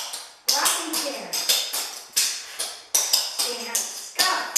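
Clogging taps dancing a rocking chair step in an intermediate lesson: sharp, evenly paced taps and scuffs in pairs, close and loud, with an instructor counting and calling steps over them.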